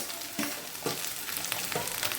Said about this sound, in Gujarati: આદુ અને મરચાંની પેસ્ટ એ નાખી દઈશું અને થોડી વાર સાતળી લઈશું.